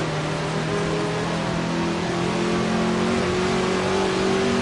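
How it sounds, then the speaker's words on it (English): A Ferrari's engine pulls away under hard acceleration in the racing game Assetto Corsa, a steady, loud drone with rising harmonic whine sustained throughout, no talk. "that Ferrari's pulling away"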